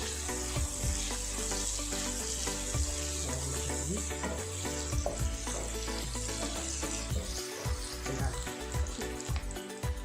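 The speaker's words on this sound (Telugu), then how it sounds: "ఉల్లిపాయలు బ్రౌన్ కలర్ వచ్చిన వరకు కొద్దిగా బాగా వేసుకోవాలండి" Onions fry in a pan for goat head curry, giving a continuous loud sizzle with scattered stirring scrapes and clinks throughout.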